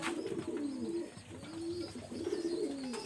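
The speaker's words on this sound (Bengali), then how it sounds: "একটা নর কবুতর দেখেন" A male red-necked pigeon coos in repeated low rolling phrases, close and clear over a soft background hum, with faint chirps from other birds.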